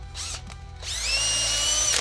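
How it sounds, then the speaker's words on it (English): A handheld power drill boring a hole, with a couple of brief whirring bursts followed by a longer sustained high-pitched spin, close and loud. "There's the drill, a stinking hole."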